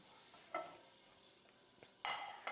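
Pork chops keep sizzling in a pan after the heat is off, a faint low hiss under a few short bursts of scraping or handling noise, quiet and close, with no talk.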